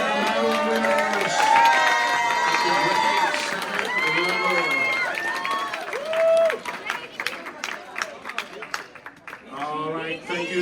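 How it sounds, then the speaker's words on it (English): A crowd at a math tournament medal ceremony claps and cheers, with excited children's shouts and whoops rising over the applause before it thins into scattered voices. "please give a round of applause to your silver medal winners."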